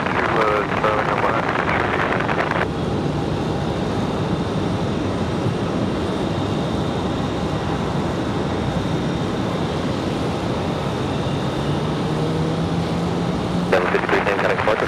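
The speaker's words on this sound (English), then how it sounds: "Rotation for the CRJ." A CRJ regional jet takes off at Raleigh-Durham airport, giving a continuous loud engine roar that holds steady with a faint rising tone near the end, while wind noise rushes across the microphone.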